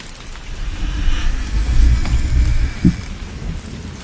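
Heavy rain in a cartoon sound effect pours steadily while deep thunder rumbles underneath, building in the middle and ending in one sharp, close crack before the downpour continues.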